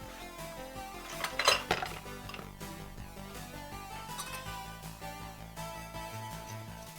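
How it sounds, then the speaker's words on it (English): A whisk clinks and scrapes against a large bowl while blending baking powder and cayenne, a quick burst of metallic rattling early on, then quieter taps over a faint background hum, with no talking. "Okay, let's whisk it."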